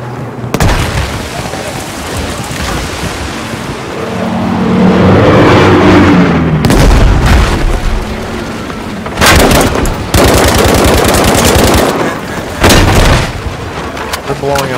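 Gunfire and explosions pound a building in the Battlefield 5 video game, with loud sustained bursts of rapid shots and heavy booms throughout, alongside a voice talking.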